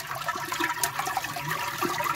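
Water from a mountain spring near Amizmiz pours and gurgles steadily at close range, a continuous bright rushing stream with small splashes and no speech.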